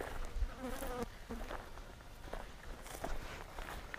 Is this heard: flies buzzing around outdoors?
yes